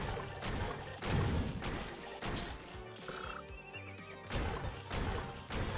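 A horse neighs in the Gun King video game, with loud, shrill whinnies over busy game sound effects and music, fairly dense and continuous throughout.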